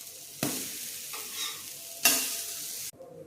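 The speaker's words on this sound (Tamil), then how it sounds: "ஒரு சைடு வெந்துருச்சு, திருப்பி போட்டுக்குவோம்." An uttapam is flipped on a hot pan. Two loud bursts of sizzling mark the turns, and between them the frying hiss settles into a steady, close crackle.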